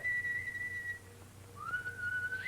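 A person whistles a single long, steady note, pauses briefly, then slides up into a second sustained note, thin and clear over a low background hum.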